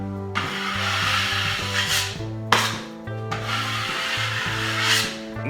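A drywall knife drags plaster across a drywall seam in long, rasping strokes, two or three passes with short breaks between them, heard up close over steady background music.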